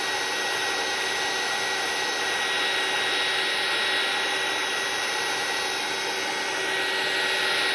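A heat embossing tool blows a steady, even hiss as it melts white embossing powder on cardstock, a continuous airy drone that holds unchanged from start to end without pauses.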